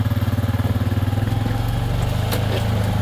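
UTV running along a South Florida trail at Monroe Station, its engine thrumming loud and close with a steady pulsing rhythm and some clatter from the ride, no voices.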